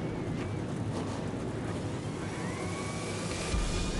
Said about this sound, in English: Strapped in, engines fired.